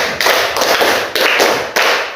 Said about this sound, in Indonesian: Tepuk 1, tepuk 3, tepuk 5 2 kali.